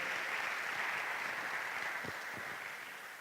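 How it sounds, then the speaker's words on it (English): A university chapel audience applauds for Dr. Parrott, a steady wash of clapping that holds evenly and thins slightly toward the end, with no voices over it. "So I'd like to give a round of applause right here to Dr. Parrott, please"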